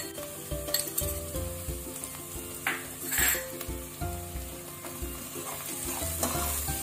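Garlic sizzling in hot oil in a pan, added after the salt while cooking a dried ribbon fish curry, with a steady crackle and repeated close stirring and scraping of a utensil against the pan, no talk.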